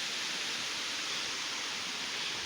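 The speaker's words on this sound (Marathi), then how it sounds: "तर इथून एक झरा येतो" A small spring flows beside a pond in a Konkan village, a steady, even rushing hiss with no breaks or voices.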